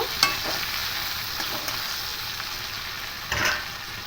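Turmeric and cumin powders sizzle in a hot pan, a continuous close frying hiss with a few soft stirring scrapes and knocks, no voices.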